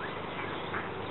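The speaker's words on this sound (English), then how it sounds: "that's our little duck and geese" Ducks and geese kept on a homestead for eating slugs and weeds, their quacking carrying as a steady, fairly quiet chatter across the whole short moment, with no talk over it.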